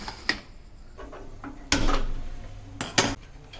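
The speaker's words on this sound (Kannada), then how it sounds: "ಕುಕ್ಕರ್ನ ಇಡ್ತಾ ಇದ್ದೀವಿ." A metal pressure cooker is set onto a kitchen stove with several separate clanks and bangs, two louder knocks and some lighter metallic taps, close by with no talking.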